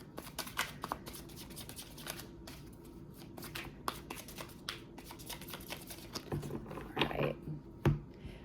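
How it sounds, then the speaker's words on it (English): Tarot cards being shuffled by hand, producing quick, soft papery riffles and taps in irregular bursts, close and fairly quiet, with a sharper flurry toward the end and no talking. "So I'm going to go ahead and shuffle the tarot cards."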